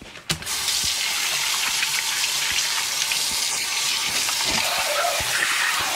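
A sink tap gushes steadily as a cleaned, scaled bass is rinsed under it, giving a loud, close, unbroken rush of running water.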